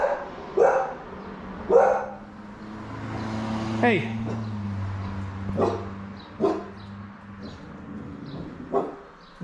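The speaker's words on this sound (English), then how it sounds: "Guard dog." A guard dog barks in repeated sharp single woofs spaced about a second apart at moderate distance, over a steady low engine-like hum, with a brief spoken word partway through.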